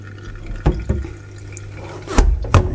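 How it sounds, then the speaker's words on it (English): Excess water is poured off a home-brew keg, giving a few short splashes and drips with two louder gushes near the end in a quiet room. "Pour some of the excess water off there."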